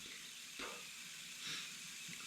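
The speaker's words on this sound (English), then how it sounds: "Blowing steam out here like crazy." Steam hissing out of the neck joint of a Martin D-28 acoustic guitar during neck removal for a reset, a steady soft hiss with two brief louder puffs.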